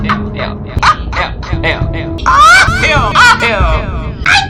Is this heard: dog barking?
yes